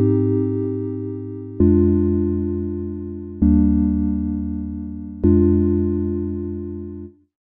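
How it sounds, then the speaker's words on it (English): A modulated sine-wave synth keys patch from Massive X sounds four sustained, slowly fading chords with a subtly shifting tone, the last one cut off abruptly, clean and upfront. "makes this super simple sine wave keys into something that could actually be used in a production"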